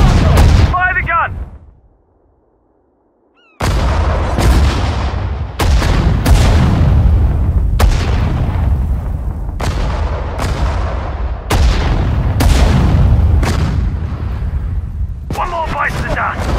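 An artillery gun firing in Sudden Strike 4, a string of loud, sharp booming shots at irregular intervals with rolling echo after each, following a brief silence.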